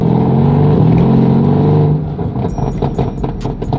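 Dodge Hellcat in the Jailbreak video game, engine revving hard with a steady roar that drops off and breaks into a quick run of crackling exhaust pops, loud and close.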